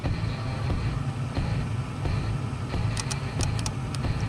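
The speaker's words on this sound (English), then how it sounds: "That relay is clicking." The starter relay on a Chevrolet Tahoe with a no-crank, no-start fault gives a series of faint, sharp clicks at irregular intervals over a steady low rumble.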